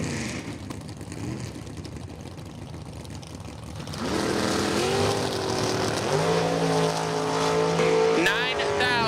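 Drag racing cars at a dirt or strip race, including a third-generation Camaro, roar louder as engines rev up from the line with rising whine, while an announcer talks over them.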